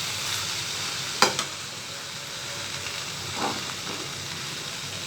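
Okra stir-fried in a pan, a steady soft sizzle with a sharp clack of the spatula near the start and brief stirring scrapes later, close and alone without talk.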